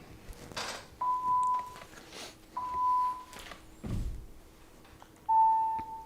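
Three clear electronic training beeps, each about half a second long, spaced roughly two seconds apart, cue a jump exercise at a volleyball coaching session, with thuds and shuffling movement between them.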